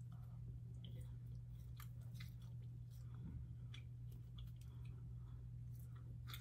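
Soft, wet chewing of a garlic knot from Rocco's Pizza, soaked in oil or butter, close to the mic over a steady low electrical hum, with faint squishy bites and no clear talking.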